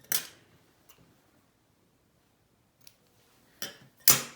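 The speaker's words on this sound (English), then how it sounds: "And you're going to cut the suture." Scissors snipping suture thread during a stitching demonstration, a few sharp isolated clicks and snips, close and quiet with silence between them.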